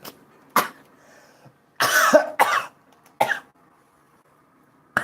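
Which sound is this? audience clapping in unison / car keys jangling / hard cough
hard cough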